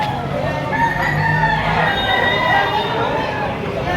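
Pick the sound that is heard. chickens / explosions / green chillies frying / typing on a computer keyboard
chickens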